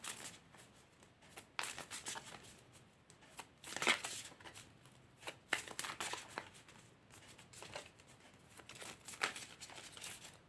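Tarot cards are shuffled and handled up close, a string of quiet riffling bursts and soft papery slaps at irregular intervals in a hushed room.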